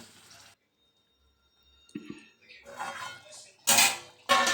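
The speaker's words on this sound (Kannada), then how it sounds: "ಫ್ರೈ ಮಾಡಾದ್ಮೇಲೆ ಸ್ವಲ್ಪ ನೀರು ಸೇರಿಸ್ತಾ ಇದ್ದೀನಿ." Water poured into a pan of frying chicken curry with coconut, tomato and onion paste, heard as a few short splashing, sizzling bursts among quiet gaps and light pan clatter.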